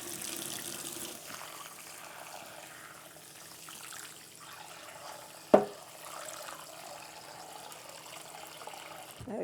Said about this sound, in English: Then what we do is we add water.